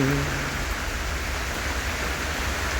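Heavy rain pours in a dense, steady hiss that stays even throughout, with a faint low hum at the very start.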